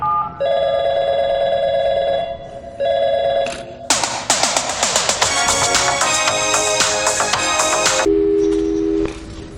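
A telephone in the Portal 2 video game rings with steady electronic tones that pause and repeat, then give way to a loud, busy stretch of buzzing ring-like noise before a final lower tone, with no one talking.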